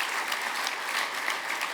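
An audience at an awards gala breaks into a round of applause, dense steady clapping from many hands that holds evenly throughout.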